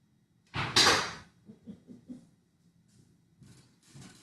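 A door is opened to let a cat in, giving one loud scraping clatter near the start, followed by several softer knocks and shuffles and a quiet tail.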